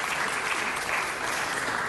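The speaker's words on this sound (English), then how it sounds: "Let's applaud that." A city council audience applauds a community leader, dense steady clapping from many hands filling the room without pause.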